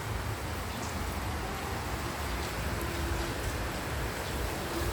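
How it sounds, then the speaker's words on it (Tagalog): Heavy, unrelenting rain pours down in a steady broadband hiss that stays loud and even throughout, with no speech over it. "ang lakas ng ulan dito"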